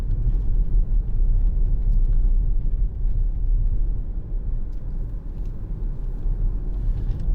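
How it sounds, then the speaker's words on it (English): Inside a 2015 Audi Q5 2.0 TDI S line quattro diesel pulling out into traffic, a steady low engine and road rumble fills the cabin, close and constant throughout. "I think we'll just pull out here and try and get in this middle lane."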